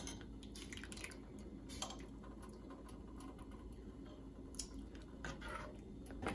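Faint, steady bubbling and soft popping of green lentil soup simmering in a pan, quiet and continuous.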